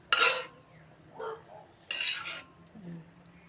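Plastic Tupperware containers clatter and knock together while being washed, in two louder bursts with softer clinks between them and quiet pauses.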